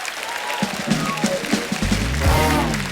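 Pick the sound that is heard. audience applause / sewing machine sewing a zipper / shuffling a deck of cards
audience applause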